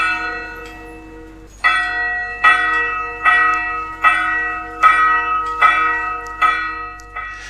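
A church bell rings in a steady, evenly spaced peal, each strike ringing out and decaying before the next, clear and alone.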